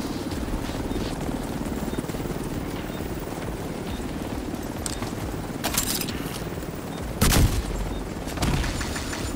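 A helicopter in Division 2, played online on Xbox One, holds a steady rotor thrum throughout, with sudden bursts of gunfire and a heavy boom breaking through near the end.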